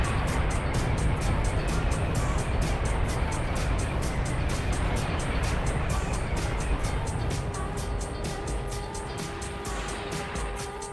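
The garbage truck in the Vigilante 8: 2nd Offense video game gives a loud, steady engine roar with constant rumble and a rapid mechanical pulsing, holding on without a break.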